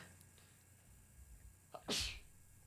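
A single sharp sneeze bursts out near the end after a quiet stretch, loud and close, with no talking around it.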